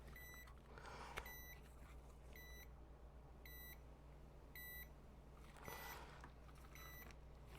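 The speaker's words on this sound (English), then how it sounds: "Got some beeping going on here." Short electronic beeps from abandoned PC hardware repeat at regular intervals over a low steady hum, with a few double beeps mixed in.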